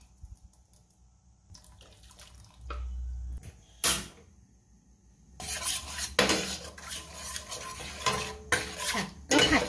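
Curry paste blended with boxed coconut milk stir-fried in a pan for a pineapple and mussel curry, with clattering spatula scrapes and metallic clinks that grow busier and louder after a quiet start.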